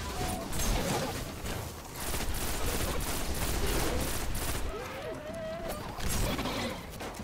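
Video game gunfire rattles in dense, sustained bursts of rapid shots, loud and constant, while a player shouts over the shooting.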